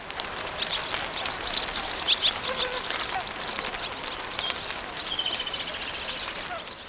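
Swallows and martins arriving from Europe call while feeding on swarms of flies in Africa, a dense chorus of high chirps and twitters, loud and continuous, heard near and far at once.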